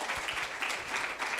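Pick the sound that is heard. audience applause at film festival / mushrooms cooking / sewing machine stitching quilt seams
audience applause at film festival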